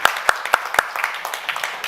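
Conference attendees clap for panelists after a discussion on climate action in agriculture and food systems, a few crisp nearby claps over steady softer applause that continues evenly.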